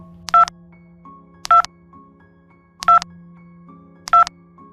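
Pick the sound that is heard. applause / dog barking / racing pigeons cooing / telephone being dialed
telephone being dialed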